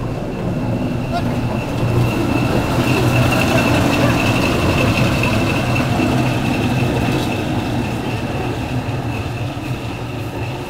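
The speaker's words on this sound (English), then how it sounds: "The engine's going to hook up." At the Mid-Continent Railway, a train engine idles with a steady low drone and a faint whine while it moves up to couple onto railway cars, with people talking nearby.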